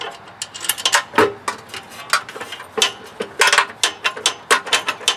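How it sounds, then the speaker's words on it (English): A ratchet loosens nuts on a Honda GX200 6.5 HP engine fitted to a DeWALT pressure washer, giving quick bursts of sharp, close metallic clicks with short pauses between them. "I'm going to loosen these nuts a bit so I have a little more"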